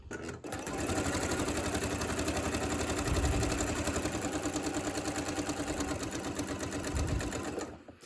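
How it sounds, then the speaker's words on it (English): Steady, fairly loud whirring of a sewing machine stitching half-square triangles, running almost continuously for several seconds with a rapid mechanical needle rhythm and a brief stop near the end. "I just sewed off the edge here"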